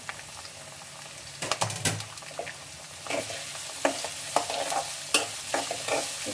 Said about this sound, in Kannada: ಚೆನ್ನಾಗಿ ಗೋಲ್ಡನ್ ಬ್ರೌನ್ ಬರೋವರೆಗೂ ಫ್ರೈ ಮಾಡ್ಕೊಳ್ಳಿ.